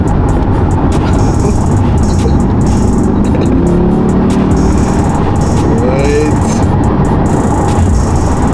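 A Corvette C8 accelerates hard, its engine a loud, steady roar with heavy road and wind rumble heard from inside the cabin, with no distinct gear changes.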